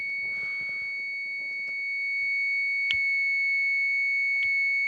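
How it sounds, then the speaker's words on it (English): Points opening and closing on a 50cc engine's ignition give a few sharp, isolated clicks spaced about a second and a half apart, faint over a steady high electrical whine and light background rustle. "that is the noise of the points opening and closing"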